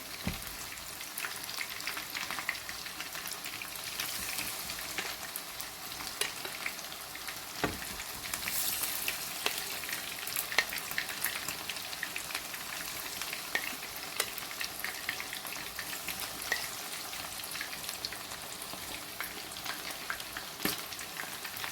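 Chicken frying in a pan over low to medium heat, a soft continuous sizzle with intermittent stirring scrapes and light taps, fairly quiet and close.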